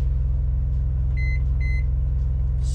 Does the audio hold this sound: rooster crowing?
no